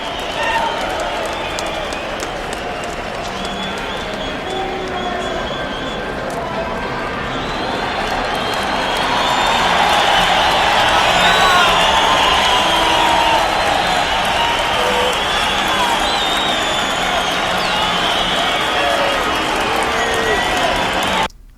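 A large crowd cheers continuously, a dense roar of voices that swells louder midway and holds steady before cutting off abruptly.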